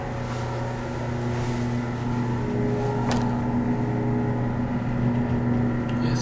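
An elevator on the cruise ship MS Europa rides from deck 4 to deck 8, with a steady machinery hum throughout and a single sharp click partway through.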